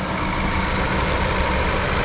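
A 2018 Honda Civic Si, turbocharged with a six-speed manual, idles in a steady, even drone heard close up with no voices.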